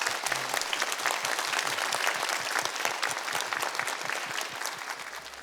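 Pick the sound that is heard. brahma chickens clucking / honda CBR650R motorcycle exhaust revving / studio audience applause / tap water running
studio audience applause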